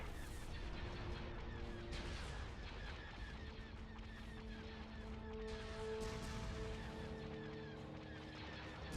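Starship batteries fire in a space battle in Star Wars Empire at War, a quiet stream of booming volleys and laser shots layered over background battle noise and electronic tones.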